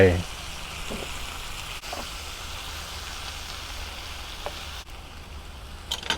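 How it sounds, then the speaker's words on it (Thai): Chicken stir-fried with blended chili and garlic makes a steady sizzling hiss in the pan, with a few faint stirring scrapes, while someone speaks over it. "ผัดให้เนื้อสุกครึ่งหนึ่งนะครับ"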